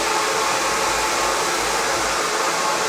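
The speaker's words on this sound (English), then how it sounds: "Don't let the heat burn the hair from the blow dryer." A hair blow dryer runs steadily while drying hair at home, a loud constant broadband whoosh with a low motor hum throughout, heard alone without voices.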